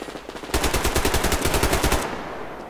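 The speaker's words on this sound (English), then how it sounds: "Someone's shooting at me." Rapid automatic gunfire from the video game Survarium, a dense burst of sharp repeated shots lasting about a second and a half, loud and close, with no talk over it.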